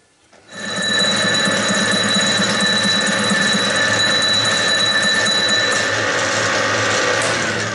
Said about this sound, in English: I hope that these welds will not be too hard to cut here on the lathe.